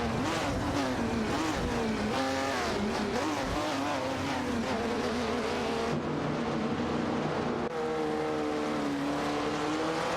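Classic muscle car engines race in a video game, a continuous loud, layered roar of multiple revving motors with shifting pitch and no pauses.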